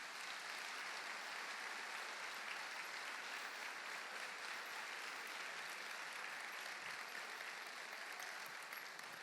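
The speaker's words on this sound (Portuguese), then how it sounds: "Vamos aplaudir os humildes aqui." A church congregation gives a continuous, dense wave of applause that holds at an even level throughout, heard from within the crowd with no voices standing out.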